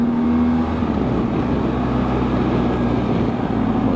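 A BMW R1250 GSA motorcycle's engine drones steadily up close while overtaking a Peugeot on a climbing mountain road in Portugal, wind rush over a constant low hum with no talk.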